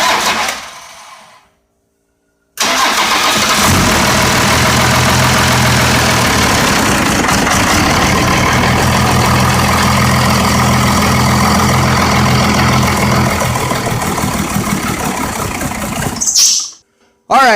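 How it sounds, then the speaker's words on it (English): A 1990 Dodge W250 first-gen Cummins diesel cranks and catches after a pause, then runs at a loud, steady, clattering idle for about thirteen seconds before shutting off. "we're going to start the engine"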